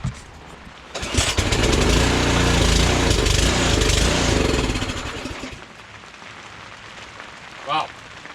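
A Powersmart 26-inch 212cc snow blower engine starts on the first pull and roars loudly for several seconds before settling to a quieter idle, with a voice heard briefly near the end.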